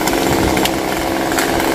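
A chainsaw cutting long branches from a rain tree, a loud, steady, close engine whine held at full throttle throughout.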